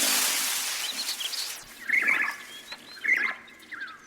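Two or three bright bird calls ring out in short bursts after a rushing noise fades, fairly close and distinct.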